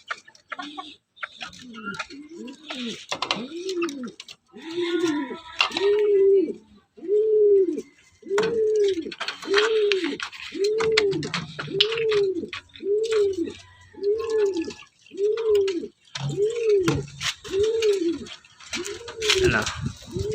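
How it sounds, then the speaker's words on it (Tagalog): Pigeons in a loft coo in a steady, repeating rhythm, a low rolling call sounding about once a second, close by, with a voice talking intermittently over them. "Ito mga kalapatids, pakakainin lang natin."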